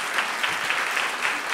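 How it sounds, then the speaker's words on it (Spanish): Steady audience applause for a child contestant at a children's reading-aloud competition, a continuous wash of many hands clapping at a moderate distance with no voices over it. "Un aplauso a Pilar,"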